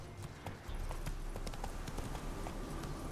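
Roach the horse's hooves clip-clop steadily in The Witcher 3, a close, even walking rhythm of soft knocks running the whole time over a low ambient bed.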